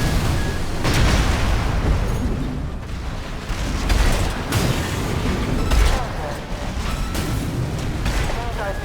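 Explosions from the video game Armored Core 6 boom repeatedly and loudly in heavy, rumbling bursts over several seconds, with in-game voices talking over the blasts.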